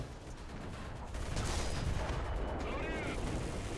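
Tank cannon fire from a Panther D in War Thunder arcade battles on a jungle beach map, a dense rumbling barrage of heavy booms with battle noise throughout and talk layered over it.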